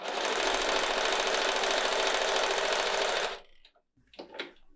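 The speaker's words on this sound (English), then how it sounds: "I'm going to go ahead and sew them together with 1/4 inch of seam allowance. And I'm using my 1/4 inch foot here." A sewing machine with a 1/4 inch presser foot stitches fabric pieces together, running loud and steady for about three seconds before stopping, followed by faint handling noises.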